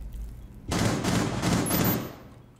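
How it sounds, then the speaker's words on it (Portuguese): Gunfire in Rainbow Six Siege: after a brief quiet moment, a loud burst of rapid automatic shots rattles out for well over a second and then tapers off. "Cozinha, tá rolando tiro também."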